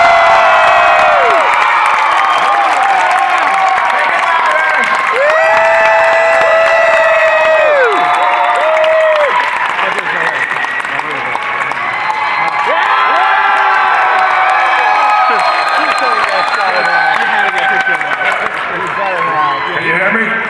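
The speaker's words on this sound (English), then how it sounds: "Hulking round of applause for Lou Ferrigno." A large Comic Con convention audience cheers and whoops, with shouting voices rising over sustained applause, loud and continuous throughout.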